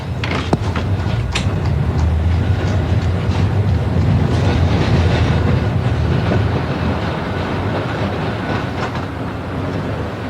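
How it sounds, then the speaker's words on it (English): Blackpool electric tram rolling along its rails, a dense continuous rumble and rattle with occasional sharp clanks and wheel squeals, close and loud with wind buffeting throughout. "We were the very first town in the whole world with electric tram cars"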